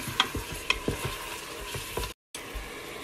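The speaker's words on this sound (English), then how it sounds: "I threw my meat in there. I'm gonna saute it a little bit before I close it up." Meat sautéing in an electric pressure cooker on its sauté setting for a spinach and chickpea stew: a steady close sizzle with a few sharp stirring scrapes, a brief dropout near the end.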